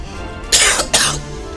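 A man coughs twice in quick succession, loud and close, with harsh bursts over a low background hum.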